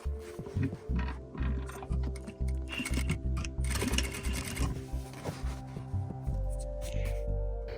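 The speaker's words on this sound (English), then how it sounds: "And start to sew." A sewing machine stitches a seam on a throw pillow with self welt and zipper, a steady mechanical whirr with short pauses and restarts, close and moderately loud with no talking.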